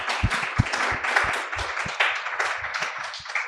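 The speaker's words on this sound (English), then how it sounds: "So if you could join me now in just giving a round of applause" An audience at a live recording of a panel on disability sport participation claps in sustained applause, dense overlapping hand claps at moderate distance with some sharper nearby claps, lasting throughout.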